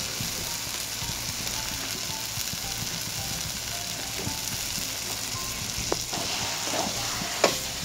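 Hilsa fish head frying in hot oil for a taro-leaf dish, giving a steady, close crackling sizzle throughout, with a few sharper stirring clicks and scrapes toward the end.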